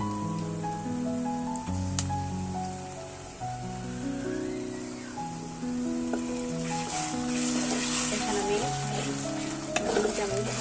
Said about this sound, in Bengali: এখন আদা রসুন বাটা দিয়ে কষাতে হবে